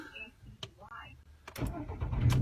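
A Seat Leon engine cranks and catches in the final second, rising into a low, loud rumble after a stretch of quiet cabin clicks and faint talk.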